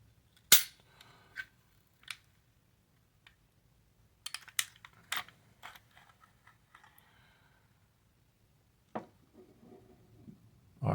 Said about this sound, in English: So let's break the gun down.